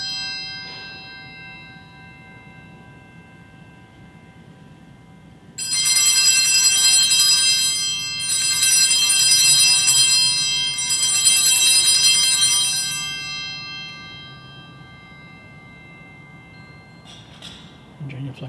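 Altar bells ring at the consecration of a Traditional Latin Mass in three bright, loud bursts of about two seconds each, separated by short pauses, set against a quiet church.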